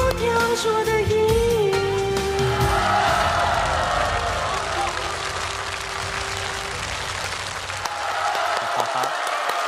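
A concert audience bursts into applause after four young performers finish a song, the clapping loud and sustained as the last musical notes fade beneath it.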